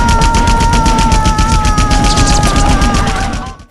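Rapid machine-gun fire in a film battle scene, loud dense bursts of shots in a fast regular rhythm with a ringing tone underneath, fading out at the end.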